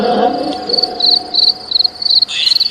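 Crickets chirping at night in a cemetery: a loud, high, steady trill of rapid repeated chirps, close and continuous, with a faint low murmur beneath it and no speech.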